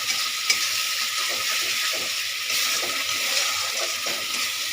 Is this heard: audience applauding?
no